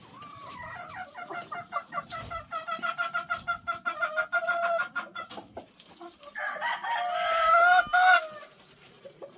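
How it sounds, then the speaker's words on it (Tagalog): A large breeding hen on a game farm clucks in a rapid, rhythmic series of close, loud calls, ending with a drawn-out, rising squawk. "Ang inahin na ito ay napakalaki guys."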